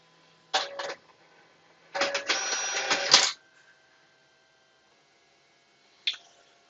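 A Zebra card printer prints and encodes vaccination cards, giving a short mechanical whir, then a longer buzzing feed with rattling motor tones, and a brief click near the end amid quiet pauses.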